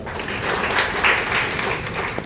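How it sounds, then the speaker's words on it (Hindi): Students at a higher secondary school in Indore break into brief, dense applause, a wash of many clapping hands sustained for a couple of seconds without a clear break. "शाबाश, बहुत बड़ी ताली हो जाओ सब"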